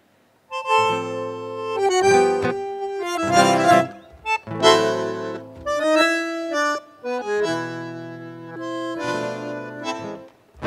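Tango by a Uruguayan composer played on a melodic instrument with harmonized chords, phrases starting and pausing in expressive bursts, clear and close with no voices.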